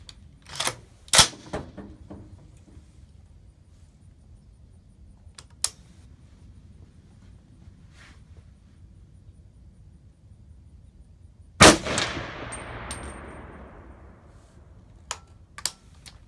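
Two sharp, loud reports from a Knight's Armament SR-25 rifle fired at a rubber target 100 yards away, the second followed by a long fading echo, with faint clicks scattered in between.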